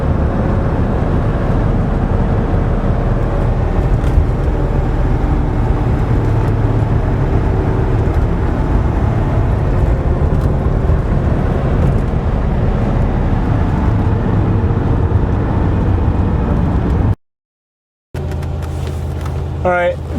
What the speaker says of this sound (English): now it's warmed up a little bit. You can hear it just idles like normal.